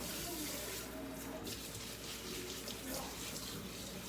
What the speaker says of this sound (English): I'm going to make sure that we're rinsing all of the bleach out.